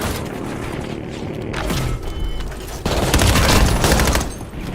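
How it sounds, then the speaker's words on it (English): Cradle bombs detonate in a college football video game, a dense run of booms and rumbling blasts in loud overlapping bursts that swell toward the end. "Detonated cradle bombs in the AO."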